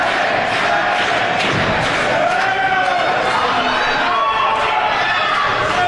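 A wrestling crowd on its feet in South Philadelphia at a Dragon Gate USA show roars continuously under ringside commentary, with thuds of bodies hitting the mat and scattered shouts rising through the din.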